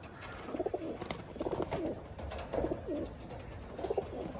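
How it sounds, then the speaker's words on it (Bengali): Rain-dampened pigeons in a Chinsurah loft coo in repeated rhythmic phrases, about four distinct bouts, soft and close without talk. "দারুন পায়রা বৃষ্টিতে একটু ভিজে রয়েছে"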